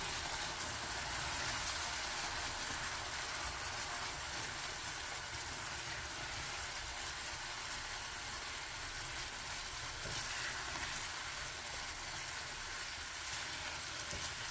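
Caramel sugar boils in a pot while being stirred, a steady, faint bubbling hiss that runs unbroken and alone without voices.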